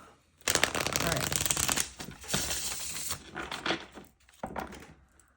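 Tarot cards being shuffled by hand in a quick series of riffles and slides, close and crisp, with short pauses between bursts.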